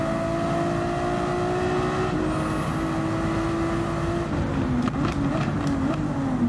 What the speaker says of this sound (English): I'm just gonna allow you to listen to cars flying by